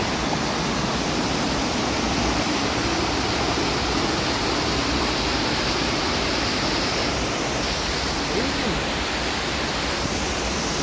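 The Mother Falls of Ditumabo in San Luis, Aurora, pours into a clear river as a constant, dense roar of rushing water that stays steady and enveloping throughout, with no voices.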